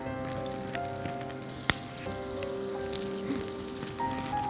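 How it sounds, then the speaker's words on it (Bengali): Ready-to-cook chicken spring rolls sizzle steadily in hot oil, a dense crackling hiss with a sharp pop partway through, close and continuous with no talk. "তো তেলটা তো গরম হয়ে গেছে, এখন আমি কাজী ফার্মস কিচেনের চিকেন স্প্রিং রোল সেটা দিয়ে দিব"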